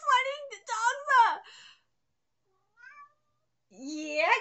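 A cat meows repeatedly, clear and close, in several drawn-out cries with a pause before a final longer meow.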